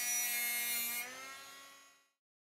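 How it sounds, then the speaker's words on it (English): A flapper wheel on a Proxxon motor tool deburring a hole in a model steam engine's chimney, a high, steady whining hum that drops in pitch as the tool spins down and stops, close and alone. "for this I'm using a flapper wheel fitted to my Proxon motor tool"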